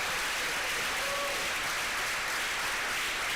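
Audience at a lecture on substance use claps in steady, dense applause that fills the room from start to finish at a moderate, even level.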